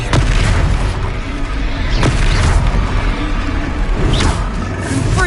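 Repeated Confringo fire-spell blasts in Hogwarts Legacy, several sharp booming bursts at roughly one-to-two-second intervals over a constant dense rumble of combat noise.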